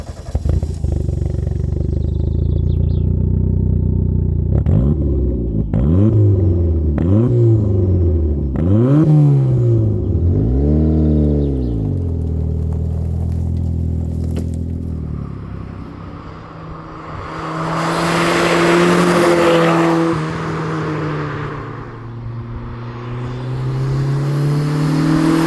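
A turbocharged Mazda MX-5 NA revs hard through several rising and falling bursts as it is driven. Gear changes and turbo whoosh follow, then a quieter cruise before it accelerates again, loud and close.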